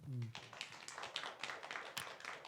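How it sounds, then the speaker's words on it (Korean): A church congregation claps for a deacon: a burst of scattered hand claps rising right after a brief voice, then continuing as a loose, uneven patter. "박수 한번 해드립시다"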